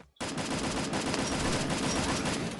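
Sustained automatic gunfire in a shooting video game, a loud dense burst of rapid shots that starts abruptly and keeps up steadily throughout without talk.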